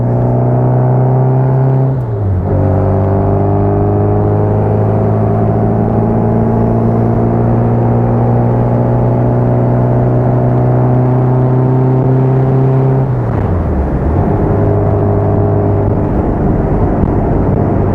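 Upgraded Austin Healey Bugeye Sprite with a five-speed transmission, its exhaust note droning loud and steady under acceleration, dipping twice as the driver shifts gears and then pulling up again, close and alone without talk.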